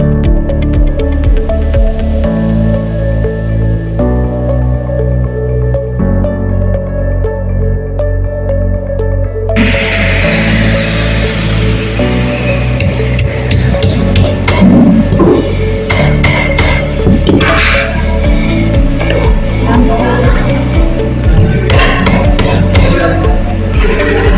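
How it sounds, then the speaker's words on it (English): Metal eyelets being hammered into punched holes in a rubber sheet, with loud, close, repeated sharp impacts in steady bursts over a constant background hum; no talking. "Now I am in the lab adding eyelets to all the holes that I've made in the rubber sheet"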